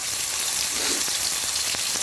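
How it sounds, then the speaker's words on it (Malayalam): A short burst of hot oil sizzling and crackling over a low flame as chicken pieces go in for street-style fried chicken, close by and steady, with no voices. "അതേ എണ്ണയിലോട്ട് ഞാൻ ചിക്കനെ അങ്ങോട്ട് പറക്കി വെക്കുവാണ് കേട്ടോ"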